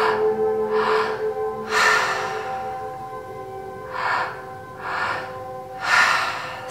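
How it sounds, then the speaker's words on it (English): Deep, slow breaths in and out through the mouth during a guided breathwork meditation, several long airy inhales and exhales spaced a second or two apart, close and fairly soft. "So right now we're only breathing in and out of the mouth"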